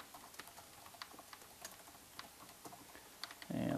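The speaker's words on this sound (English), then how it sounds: "Let's type in some of our employees." Fingers tap a computer keyboard in quick, uneven bursts of light, close clicks for several seconds, then a louder rush of noise cuts in at the end.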